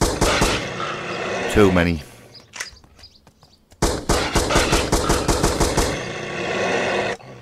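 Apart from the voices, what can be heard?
gunfire shooting creatures in Creatures Inc video game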